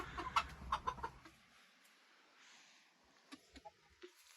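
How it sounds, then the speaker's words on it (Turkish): A rooster clucks a few times up close, then the sound drops to near quiet with a few soft knocks and rustles. "Ağlama horoz kardeşim benim."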